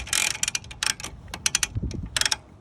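A trailer winch being cranked to pull a 2000 Sea-Doo GTX jet ski up by its strap gives a run of sharp, close ratcheting clicks in uneven bursts, with no talk.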